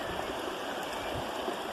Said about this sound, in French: Cette jolie petite rivière est l'eau noire.